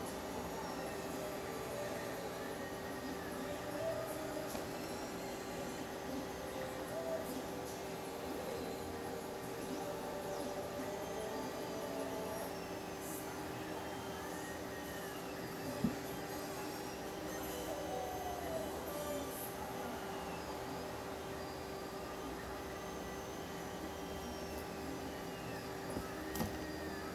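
A train rolls past with rumbling railcars and thin, wavering wheel squeals, faint and steady throughout, with no clear voices heard.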